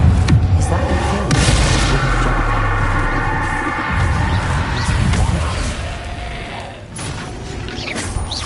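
Spell blasts and explosive booms from the Confringo fire spell in Hogwarts Legacy ring out through dense, continuous game action, with heavy low rumble and scattered mechanical clatter throughout.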